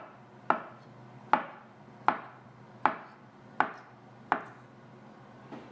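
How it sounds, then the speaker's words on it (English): Cooled cooked vegetables for grandma's chicken soup being cut into serving-size pieces, a knife striking the board in six evenly spaced, crisp chops about three-quarters of a second apart, close and clear with no talk. "So we just cut them in nice serving size."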